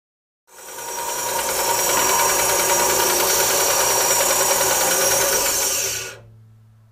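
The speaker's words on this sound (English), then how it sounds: "we're going to take our bandsaw and go ahead and cut it right in half" A bandsaw cuts a pallet wood board in half as one loud, steady buzzing rip that starts abruptly, holds for about six seconds, then stops, leaving a faint motor hum.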